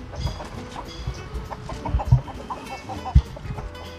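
Native chickens cluck and squawk while being fed, a scatter of close, irregular clucks and short calls over rustling and a few soft thumps.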